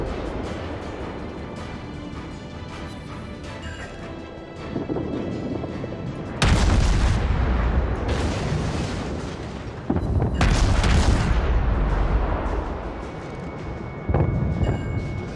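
Warship guns fire in the naval battle game World of Warships as a few heavy, booming salvos. The blasts land several seconds apart and rumble loudly over constant low battle noise.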